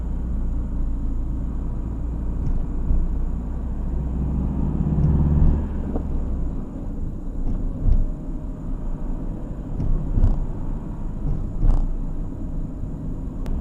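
A car crosses a dam on a road in the French Alps, its engine and tyres making a steady low rumble heard from inside the cabin, with a few soft bumps along the way.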